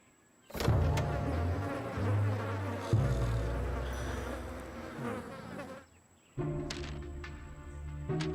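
Insects, likely mosquitoes, drone in a loud, steady, close buzz that swells and fades and breaks off briefly before returning.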